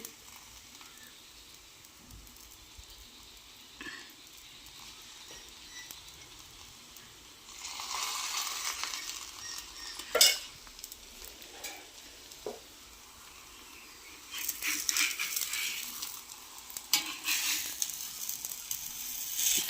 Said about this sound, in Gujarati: આપણે લોઢીમાં તો નાખી દીધું છે તો ચલો તેલ પાડી દઈએ